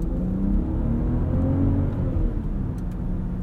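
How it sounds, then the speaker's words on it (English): A 2022 Range Rover LWB with a 3-liter turbocharged, supercharged inline-six drives along, heard from inside as a steady low engine and road drone that swells slightly under acceleration. "Good amount of torque too from this 3-liter turbocharged, supercharged inline six."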